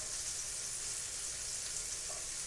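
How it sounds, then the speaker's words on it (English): Green onions sizzle faintly in a shrimp stir fry pan, a soft, steady hiss of frying with no talking. "then I think I'm going to throw the green onions in."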